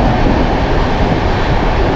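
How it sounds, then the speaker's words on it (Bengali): A Duronto Express train on the Sealdah to Puri run, heard from inside and travelling at speed, gives a loud, steady, dense rumble of wheels and carriage noise that continues without a break and with no talking. "দুরন্ত এক্সপ্রেস আর দুরন্ত গতি নিয়ে চলছে।"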